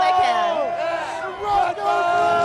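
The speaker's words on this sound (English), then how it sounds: "this crowd's going to be yelling RedBud as loud as they can" A large motocross crowd at the RedBud race chants and yells in loud, rising and falling waves of many voices, close and sustained, with a short dip in the middle.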